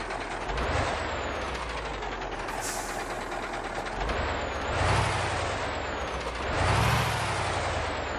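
Truck in traffic with a fine, rapid mechanical ticking from its valve tappets under a steady engine drone, and several rising air-brake or engine swells passing close by.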